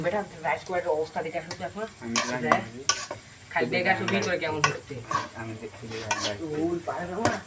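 A friend cooking at an outdoor picnic, stirring food in a pan with oil: clinking utensils and pot scrapes over a low sizzle, with voices talking throughout.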